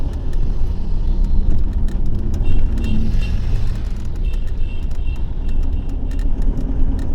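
A car drives past close on a country road near Pamukkale, a loud steady engine rumble and road roar lasting several seconds, with no talk over it.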